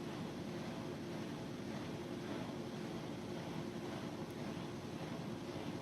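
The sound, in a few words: washing machine running in the background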